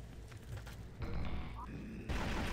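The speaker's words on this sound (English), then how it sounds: "Huge explosion. Looked pretty good." A loud, booming explosion in the game Quake, running the Quake 1.5 mod, blasts out at close range amid ongoing in-game gunfire and rumbling effects.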